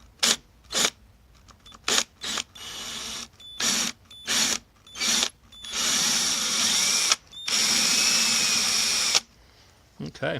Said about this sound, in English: get yourself like a really good bit and some cutting oil to be able to drill out a hardened bolt like that